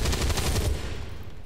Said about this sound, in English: let's shoot the zombie.